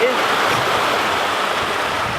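Cold early-spring mountain stream in the San Bernardino National Forest, rushing steadily as a close, even wash of water noise that holds throughout without pause.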